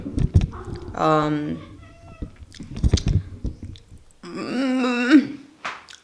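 Several cats meow at morning feeding time, with repeated drawn-out cries close by, interspersed with a person talking nearby and some soft chewing sounds.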